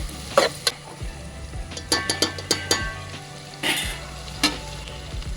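Onions fry in a pan until reddish, a constant hiss under a run of sharp clanking strokes from a spoon scraping and stirring, close and fairly loud, with no talking.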